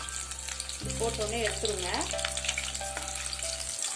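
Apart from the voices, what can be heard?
crushed garlic frying in oil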